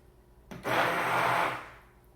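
Blender whirring through homemade mayonnaise made with oil, kicking in abruptly after a quiet start, holding a steady loud motor drone for about a second, then winding down to a fade.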